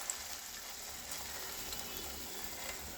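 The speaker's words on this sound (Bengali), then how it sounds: "এবারে ডিমগুলো এভাবে একবারে বেসনে মাখিয়ে এগুলো তেলে ভাজবো।" Besan-battered eggs fry in hot oil, a soft, steady sizzle with a faint bubbling crackle that stays low and even throughout.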